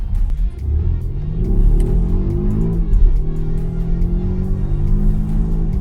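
A 2020 Volvo XC90 T8 Twin Engine plug-in hybrid SUV with 400 horsepower accelerating hard in dynamic mode, its engine note rising and dropping through gear shifts, loud and steady from inside the cabin.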